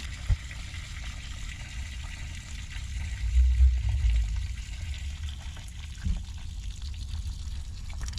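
Residual water draining out of household plumbing after the supply is shut off for a faucet repair, a low steady gurgling trickle with a couple of soft bumps, faint and without speech.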